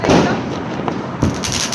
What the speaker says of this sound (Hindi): ये रहा मेरा फेवरेट पटाखा, इसको क्या कहते हैं मुझे नहीं पता, लेकिन ये इतना बढ़िया जलता है ना